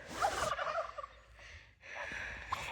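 Turkeys on a farm give a burst of gobbling, a rapid rattling call up close followed by a second fainter gobble, over a quiet outdoor background.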